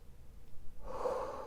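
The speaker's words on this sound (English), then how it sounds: "So deep breath in." A single deep breath drawn in through the nose during a guided relaxation exercise, soft at first and then swelling into a steady, close airy rush that lasts about a second.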